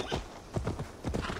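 Horse hooves clip-clop at a brisk trot while riding in Assassin's Creed Valhalla, several close, heavy thuds in quick uneven pairs.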